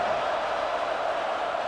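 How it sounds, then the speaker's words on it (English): At a college football game between Northern Illinois and Western Michigan, a stadium crowd roars after a touchdown, a steady, dense wash of distant cheering with no breaks, heard briefly on its own. "this crowd is feeling themselves after that last drive"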